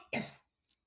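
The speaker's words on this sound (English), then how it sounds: "I don't know why I'm coughing" A single short cough from a person sitting at a table during a casual appetizer-tasting chat, close and fairly loud, followed by a faint trailing breath or throat sound, with no talking.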